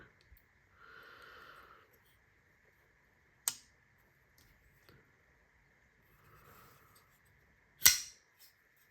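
A Kizer Huntsman folding knife with bearings snapping open and shut, two sharp metallic clicks a few seconds apart among quiet handling noises and soft rustles, no talk.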